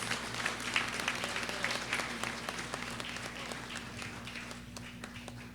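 A crowd applauds at a Brooklyn Eid al-Fitr celebration marking the end of Ramadan, sustained clapping with some louder individual claps, over a steady low hum, slowly tapering off.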